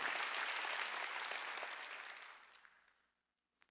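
Congregation at a Wednesday church service bursts into applause, a dense clapping wash that holds for about two seconds, then tapers off and fades into near silence.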